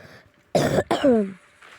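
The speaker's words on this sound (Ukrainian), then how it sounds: "Я з маркою і кашляю я." Two or three harsh coughs burst out in quick succession, close and loud, followed by a strained throaty rasp, then quiet.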